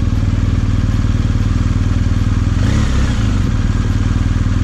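A BMW R1250 motorcycle engine runs loud and close, a steady throbbing idle with a brief rise and clatter partway through, no voices over it.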